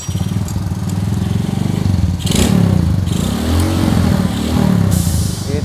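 Hot motorcycle engine running with a rough knocking, ticking clatter, loud and close throughout, the engine note swelling briefly at times.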